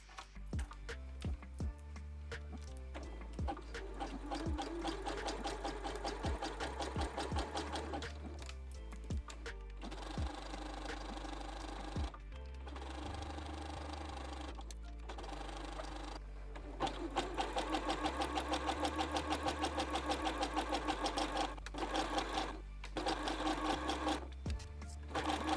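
A sewing machine stitches a zigzag along the folded edge of knit fabric, its needle hammering in rapid steady bursts, pausing briefly between runs, close and clear with no voices.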